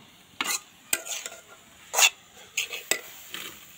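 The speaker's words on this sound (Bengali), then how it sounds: "এখন এটাতে তেল দিয়ে ভেজে নিব।" Boiled drumstick leaves stirred in hot oil in a pan, giving short scraping stirs and brief sizzling bursts at uneven intervals, close and fairly loud.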